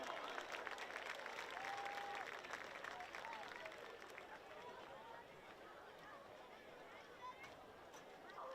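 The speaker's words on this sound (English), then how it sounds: "Let's give him a round of applause." A crowd at a high school football game against Wagoner claps and cheers from a distance, a broad wash of applause that fades slightly, with crowd murmur and voices mixed in.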